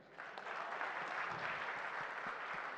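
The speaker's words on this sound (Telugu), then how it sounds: "ఈ సినిమా క్లాప్స్ కొట్టరా" An audience at a Telugu film event claps together in a steady, sustained ripple of applause that fills the hall at an even level.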